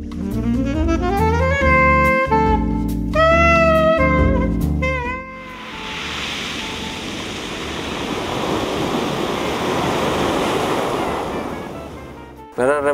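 Sea waves wash steadily onto the wide beach at the Ardore marina in Calabria, a loud continuous surf roar that follows a short burst of music and swells and eases over several seconds.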